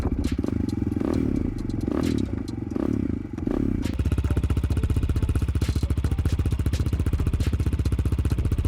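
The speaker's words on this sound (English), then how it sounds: "Let's listen to the engine working." A cheap Chinese dirt bike engine cranks with a few sputtering bursts, then catches and idles in a fast, steady, loud putter close by.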